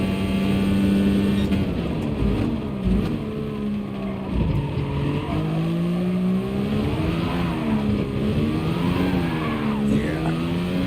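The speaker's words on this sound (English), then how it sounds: "Drifting is also not so good for the tires." A car drifting in the GT Sport racing game, its engine note rising and falling steadily while tires skid through the slide, loud and continuous with no pauses.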